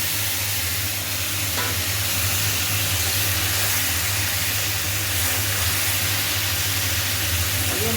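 Loud, continuous sizzling fills the scene as fried small fish and oil tempered with black cumin seeds are poured together in a pan for a fish curry, a dense steady hiss with faint stirring and no talk.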